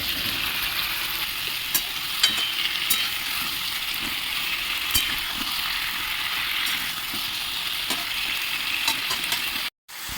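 Pumpkin and eggplant pieces fry in a pan with a constant, close sizzle, broken by occasional stirring clicks and scrapes.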